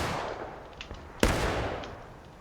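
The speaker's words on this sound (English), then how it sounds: "I imagine that was supposed to be a volley, but instead it really did sound like somebody was making popcorn" Muskets fire in a ragged, uneven volley during a period battle game, a few scattered pops followed by one sharp loud crack and trailing rumble, sounding like popcorn popping.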